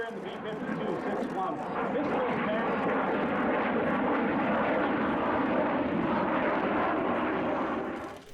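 A B-2A Spirit stealth bomber passing over the AirVenture airshow at Oshkosh, a steady, loud broadband engine roar that holds for about eight seconds, with crowd voices mixed beneath it.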